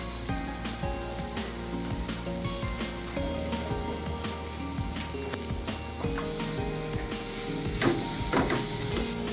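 Onions sauté with salt and turmeric in hot oil for a Kerala fish curry, a loud steady sizzle with frequent stirring clatters and scrapes of a utensil in the pan, no voices.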